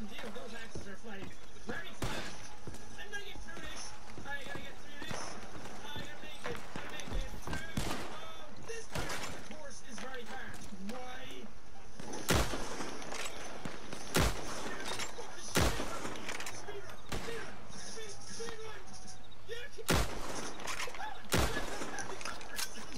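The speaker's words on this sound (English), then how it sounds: "Why do I hear gunfire?" Sharp gunshots from Red Dead Online crack out at irregular intervals, several loud close reports scattered among busy game ambience, with people talking throughout.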